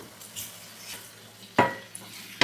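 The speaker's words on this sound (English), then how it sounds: "Now it's time to add eggs, beating eggs." Four eggs are beaten in a bowl for egg fried rice, with soft scraping and then two sharp utensil clinks against the bowl, close and fairly loud.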